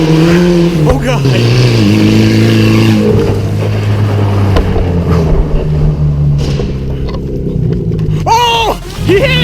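A V8-swapped rear-wheel-drive Camry sleeper hoons around on a road, its engine droning and revving steadily throughout, with a person talking over it close by.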